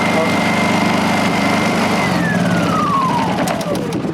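A Honda EU2000i inverter generator runs steadily after being coaxed back to life, its small engine buzzing loud and close, with a tone that sweeps downward partway through.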